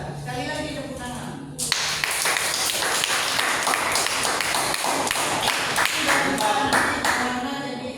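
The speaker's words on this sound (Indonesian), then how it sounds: "Sekali lagi tepuk tangan." A second round of classroom clapping from students breaks out suddenly after a teacher speaks, loud and steady for several seconds, with speech returning faintly near the end.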